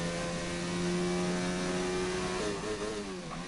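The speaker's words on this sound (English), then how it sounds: "A lot of engine braking you can hear as he goes through turn 6 there" A racing car engine braking through turn 6 on a circuit, its steady droning engine note holding pitch before wavering and dropping as it slows, loud and close with no talk.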